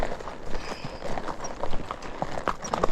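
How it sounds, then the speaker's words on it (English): Quarter horse hooves clop along a trail in a soft, uneven trotting rhythm, fairly faint, with outdoor background noise and no talking. "every now and then I make him trot to catch up"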